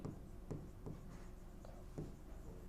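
Faint, scratchy strokes of writing on a board during a biology lesson, a few short bursts spaced irregularly against a quiet room.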